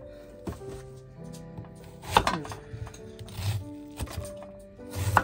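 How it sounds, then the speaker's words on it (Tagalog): A kitchen knife slices through washed fish or vegetables on a wooden board, giving sparse, uneven chops and knocks with soft scraping between them, close and fairly quiet, with no talking. "Hiwain natin ito kasi nahugasan na natin"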